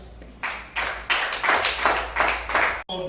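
A church congregation claps in time, about seven distinct bursts at a steady rhythm, fairly close and clear, stopping abruptly with a brief thump at the end.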